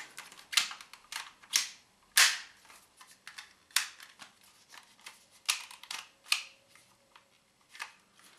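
A toy blaster is fired and handled nearby, a series of sharp clicks and snaps at irregular intervals, some louder than others, with quiet mechanical rattling between them.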